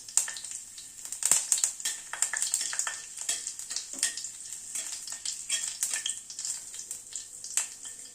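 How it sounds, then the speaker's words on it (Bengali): Fenugreek, nigella seeds and a green chili crackle and sizzle in hot oil over a low flame, with a steady bed of frying hiss and scattered sharp pops, plus a few louder spatters and faint stirring clinks, no voices. "ফোড়নটাকে একটু ক্র্যাক করিয়ে নিচ্ছি"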